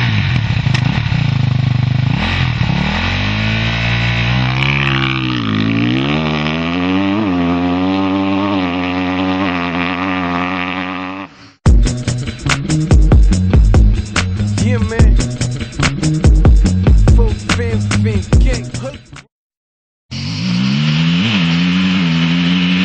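Enduro motorcycle engine running and revving with rising pitch sweeps, then a sharp burst of hard acceleration with rapid crackling exhaust pulses, a brief cut, and the engine resuming loud and close.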